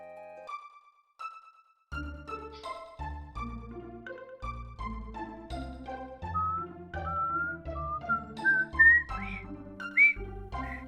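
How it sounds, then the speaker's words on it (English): Someone whistles thin, wavering notes along with Chrono Trigger game music. The whistle is faint at first and grows clearer near the end, sitting above the busy, steady melody and bass. "I'm whistling and it's not working well"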